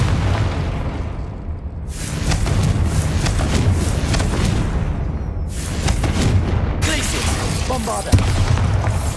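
Confringo explosive spell in Hogwarts Legacy, loud booming blasts in repeated bursts with short gaps, layered with crackling debris and combat noise.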